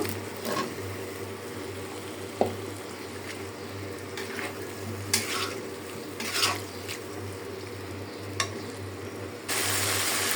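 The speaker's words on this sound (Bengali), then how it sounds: "সিদ্ধ করে রাখা আলুটা একটু কষায় নেব" Soft sizzling and scraping as boiled potatoes fry with spices in a pan, with occasional stirring clinks over a low steady hum.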